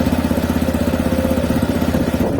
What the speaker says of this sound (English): Idle is supposed to be at 1500 RPM, but it's more at 1700-ish